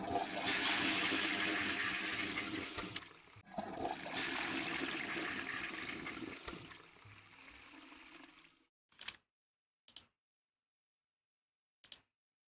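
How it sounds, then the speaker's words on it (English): A toilet flush sound effect, a loud rushing swirl of water that drains away over several seconds, followed by a few short faint clicks and knocks. "do I hear a toilet flush sound?"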